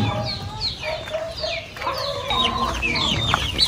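Chickens clucking in a breeder coop on a chicken farm, a busy overlapping chorus of clucks and squawks close by, continuous throughout with no talk.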